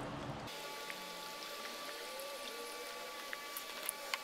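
Beer poured into beef stock for a braised beef shank, a soft continuous splashing and trickling pour that starts abruptly and runs steadily, close and fairly quiet, with a few brighter drips and no talk.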